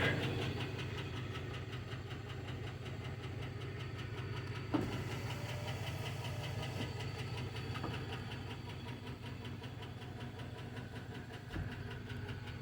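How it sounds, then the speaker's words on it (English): A 2004 GM Suburban engine idles steadily with a faint, rapid lifter tick riding on the low rumble, plus a couple of brief clicks, and no talking. "has a bit of a lifter tick"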